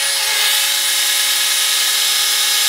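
A hand drill converted into a 12V dynamo whirs at high speed, a continuous bright motor whine holding steady and loud throughout, with no talking.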